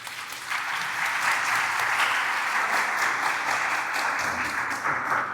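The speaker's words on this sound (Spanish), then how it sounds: "para quien pido un aplauso" An audience at a Nakba anniversary commemoration applauds a university dean of social sciences, dense sustained clapping holding at an even, fairly loud level throughout.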